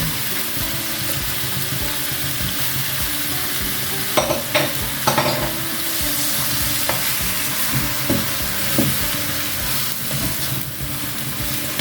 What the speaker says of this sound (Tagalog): Tapos ilalagay na natin yung atay.